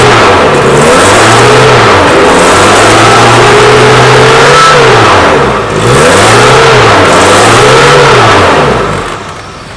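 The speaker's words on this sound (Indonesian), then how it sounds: "Ketika mesin dihidupkan, pastikan tidak ada suara-suara aneh dari mesin." A Suzuki Katana GX car engine runs loudly and steadily, its pitch rising and falling as it revs up and settles back, with no voices over it.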